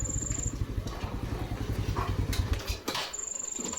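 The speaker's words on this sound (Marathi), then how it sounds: "गाडी आली ना" A motor vehicle's engine putters steadily and close by, its pulsing rumble fading out near the end as it comes to a stop.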